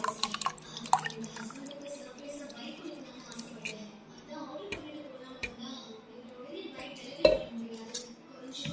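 Curd is stirred into millet porridge with a spoon, giving soft scrapes and intermittent clinks against a bowl at close range, with a voice talking over it.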